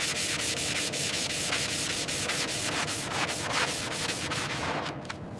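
Sanding on a Rolls-Royce Silver Shadow body panel gives a loud, continuous abrasive rasp with a rapid rhythmic scrubbing pulse, heard close and steady for several seconds.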